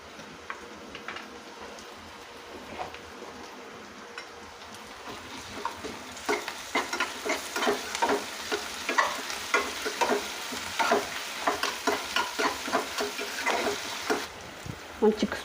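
Ginger-garlic paste sizzles in hot oil for egg fried rice, a steady crackling fry with repeated stirring clicks and scrapes that grow busier and louder partway through, no voices over it.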